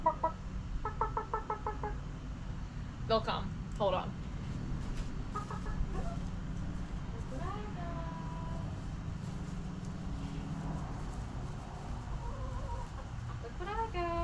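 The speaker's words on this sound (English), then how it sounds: "Let me see if I can call my chickens over here." Chickens cluck in short rhythmic bursts at a moderate distance while a person talks quietly over a low outdoor rumble.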